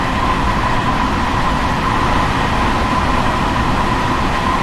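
A modern commuter train on the Harlem Line in New York, as simulated in Train Sim World 2, rumbles steadily with a dense, continuous rolling roar and a faint tonal hum, loud and close throughout.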